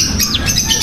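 Loud, harsh lovebird squawks and chirps crowd together in a brief noisy burst.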